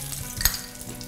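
Red curry paste fries in hot oil in a wok, giving a brief close sizzle and crackle with a faint scrape of stirring.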